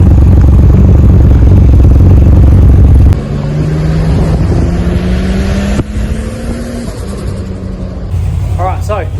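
Nissan R31 Skyline with a cammed RB30 engine and 3582 turbo, idling loud and rough at first, then driving off with rising and falling engine tones over a short lap, with voices speaking over it.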